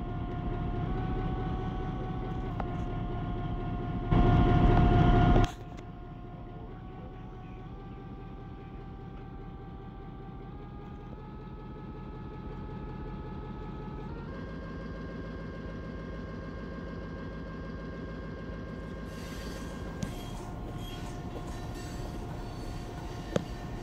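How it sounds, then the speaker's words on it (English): An empty coal train on the Lakeland & Black Valley Railroad slowly stretches out along the rails, with a steady low rumbling drone and humming tones throughout, a brief loud burst near the start, and faint clanks later on. "Alright, time to stretch out the train."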